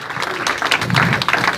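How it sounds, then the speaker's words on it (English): Audience clapping at a stand-up comedy show, a dense, lively burst of applause from the crowd with some cheering mixed in. "If you're a parent, clap it up."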